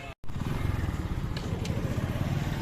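A motorcycle engine idles and runs close by, a steady chugging putter after a brief dropout at the start, continuous and fairly loud.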